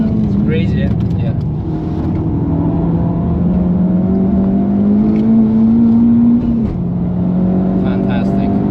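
A 450 hp Honda Civic Type R FK8 accelerates on the Nürburgring, its engine note climbing steadily from inside the cabin before a brief drop at a shift, with people talking over it.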